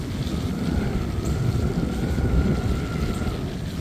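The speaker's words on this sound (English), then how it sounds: "I'm gonna assume that's wind" Wind blowing across a microphone on a new Beltline trail segment in southeast Atlanta, a continuous low rumbling roar with no voices.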